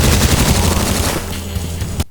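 Rapid gunfire from mid-20th-century weapons such as a Mauser pistol and Thompson submachine gun in the video game CULTIC, a dense, loud burst of shots that cuts off abruptly after about two seconds.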